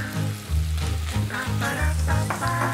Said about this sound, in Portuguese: nessa mistura de linguiça e bacon, vou colocar 1 cebola grande picada.